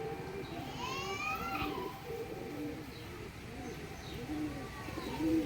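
Female Dasu Madras pigeon breathing hard after running about, a soft repeated cooing pulse near at hand over faint background noise.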